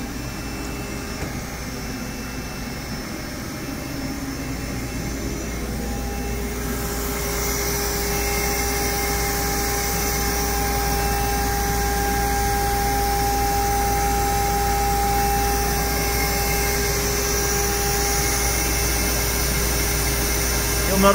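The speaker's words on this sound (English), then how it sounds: "Gonna head to the vacuum machine." A vacuum machine on a Cencorp 1000SR stand-alone PCB router runs with a steady, loud whirring roar and a high whine that grows a bit louder partway through, with no pause.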